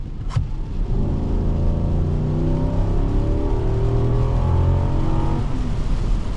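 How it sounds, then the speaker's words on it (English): A 2024 Infiniti QX80's big V8 pulls under a light throttle, a loud, close, steady engine drone whose tone climbs gradually over several seconds, with no talking. "if we give it a light little acceleration, because the throttle response is excellent"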